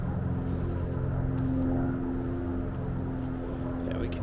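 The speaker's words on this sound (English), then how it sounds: "I'll turn this off till this plane passes." A plane passes over a big rock outcrop in Charlotte, North Carolina, making a steady, loud drone with a low hum that holds for several seconds, with no talking.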